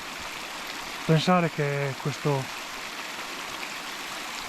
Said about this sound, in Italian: quest'acqua, questo fiumicello qua poi diventa l'Arno e arriva a Firenze